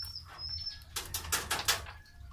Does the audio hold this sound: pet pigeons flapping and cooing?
yes